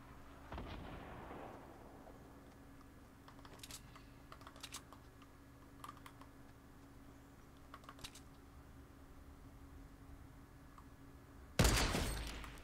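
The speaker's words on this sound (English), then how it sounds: "That's a guided missile, I swear." Guided missile explosions in Fortnite Battle Royale come through as faint scattered blasts and crackles over a low steady hum, with a louder burst of noise near the end.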